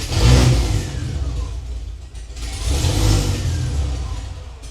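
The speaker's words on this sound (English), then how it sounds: "it's time we do the traditional workshop startup without an exhaust" In a workshop, a cammed Ford car engine runs without an exhaust, roaring loud and raw through two strong revs with a brief dip in between.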